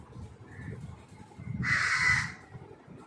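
A crow caws once, loud and harsh, over quiet background murmuring, with a faint shorter call just before it.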